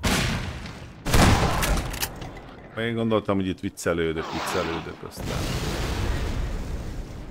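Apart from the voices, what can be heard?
gunfire and explosions in the video game Half-Life 2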